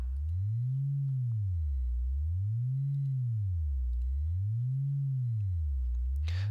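Low sine test tone through a speaker crossover with correctly matched slopes, sweeping slowly up and down in pitch in a smooth repeating wave, steady and alone, ending with a brief click.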